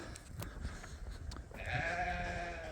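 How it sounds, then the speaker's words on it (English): Sheep ewes coming in for the night on a farm, with bleating that rises after a quieter stretch of scattered knocks and rustle, moderately close and steady. "These ewes are all coming in."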